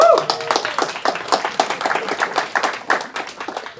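Audience clapping at a LyonJS tech meetup, a small group applauding with distinct, closely spaced claps that continue steadily for several seconds.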